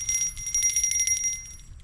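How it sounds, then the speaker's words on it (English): A small handheld bell, found as a geocache trinket, rings in rapid repeated jingles for nearly two seconds, bright and close with a faint low rumble beneath. "I think one was just this little bell."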